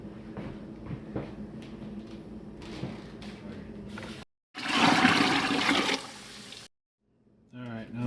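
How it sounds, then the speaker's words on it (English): Cool water gushes into a turkey brine for a keto turkey, a loud, steady pour of about two seconds that follows a stretch of talking and ends with a brief silence and more talk. "We're gonna add some other cool water and get this cooled down before we put the bird in it."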